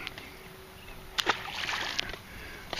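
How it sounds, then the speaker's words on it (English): A released fish drops back into Erie Canal water from the bank, making a couple of brief, soft splashes over a steady outdoor background. "Splash."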